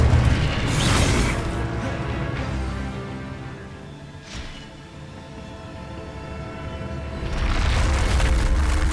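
A fire spell blast in Hogwarts Legacy roars out in heavy booming bursts, loud at the start, easing in the middle, then surging again near the end.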